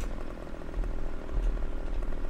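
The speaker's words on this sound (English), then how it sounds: "But when trees impede on my farming, that's when I get the chainsaw out" A chainsaw in the farming game Farming Simulator 17 cuts down trees, its steady buzzing engine drone running continuously and moderately loud with a low rumble underneath, with no talking.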